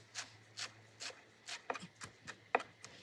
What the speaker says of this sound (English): look at us, just chopping everything down